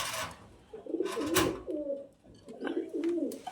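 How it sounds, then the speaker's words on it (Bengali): A Benaras breed pigeon coos nearby in soft, throaty bursts, with a few separate rolling calls rising and falling over a quiet background. "বেনারস কোয়ালিটি ফুল একটা কবুতর হয়েছে"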